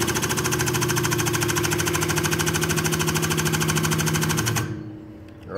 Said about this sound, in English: Then what we do is then we operate it to full stroke.